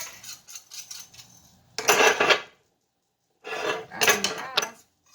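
Whisk scraping and rasping against a pan while General Tso sauce is stirred, two separate bursts of brisk metallic scraping with a silent gap between them, fairly close.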